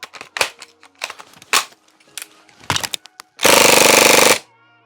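Maruzen MP5 gas blowback airsoft rifle firing: a few scattered single shots with sharp clacks, then a loud, dense full-auto burst lasting about a second, close up with no voices.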